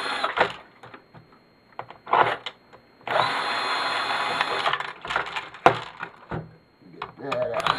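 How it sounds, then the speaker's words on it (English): A power screwdriver backing screws out of a turntable being scrapped, a whirring buzz in several short and longer bursts between clicks and handling noises, with someone talking at times. "So getting these screws out of here."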